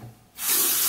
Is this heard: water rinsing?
yes